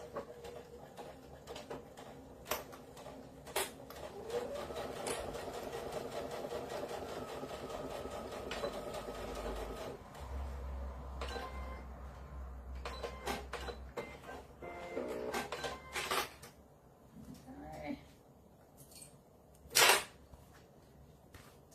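A domestic sewing machine stitches a Spencer Ogg glasses pod in several bursts of fast mechanical whirring, broken by pauses, clicks and fabric handling in a quiet room.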